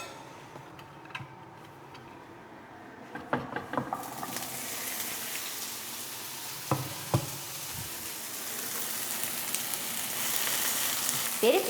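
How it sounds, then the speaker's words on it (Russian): Steady, close sizzle of bell peppers frying in a pan that swells after a few quiet seconds, with occasional taps and clicks of a utensil. "И в эту же сковороду я отправлю жарить перец."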